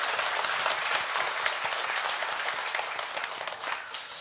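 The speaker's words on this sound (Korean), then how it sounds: "하나님께 영광의 박수 올려드리겠습니다" A church congregation gives a burst of steady applause during a Sunday morning worship service, full and even throughout, with no talking over it.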